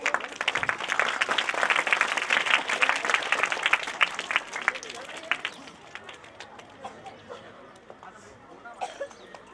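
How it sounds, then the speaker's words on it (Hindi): Applause at a school Republic Day function welcoming a guest, a dense round of clapping from the gathered crowd that thins and fades over several seconds into scattered claps, a cough and faint murmuring. "आप तालियों से स्वागत करेंगे"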